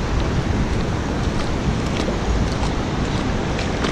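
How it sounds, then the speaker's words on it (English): Waves washing ashore in a cold New Zealand sea, a steady broadband roar of surf mixed with wind buffeting the microphone, continuous and close throughout. "here is footage of me stepping into the ocean there"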